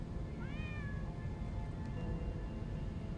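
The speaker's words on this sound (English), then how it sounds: "Oh, the cat's here." A video game cat gives a single drawn-out meow, fairly faint and rising then falling, set against a steady low rumbling ambience with no talk.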